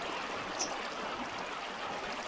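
Water flows steadily through a Minecraft zombie farm chamber: an even, gentle rushing hiss, faint and unbroken, with no other sound.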